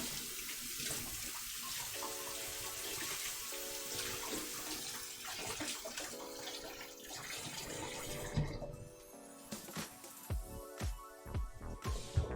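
Tap water runs steadily into a sink as pieces of American imitation prosciutto are rinsed, a continuous splashing wash heard close up with background music playing throughout.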